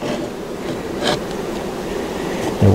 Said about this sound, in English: You may hear the bees roaring a little bit.